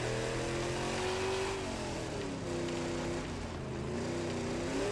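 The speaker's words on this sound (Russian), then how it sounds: "Давай, давай, газуй, газуй, газуй, родная" A car engine in Mad Max revs and accelerates hard, a loud steady roar with pitch rising and dipping as the throttle is worked, up close and continuous.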